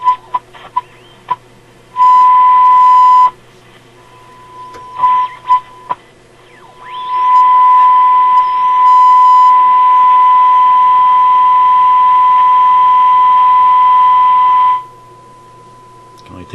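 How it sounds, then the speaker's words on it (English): A steady signal generator tone picked up on a Sparton Model 67 vacuum tube radio, sounding as short bursts and then a long sustained whine over background hiss and crackle. "Oh, there's Mr. Signal Generator."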